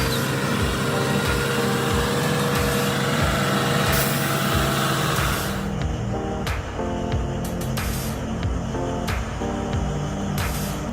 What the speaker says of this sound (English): The heavy equipment truck roars, slowly climbing the bridge with oversized cargo.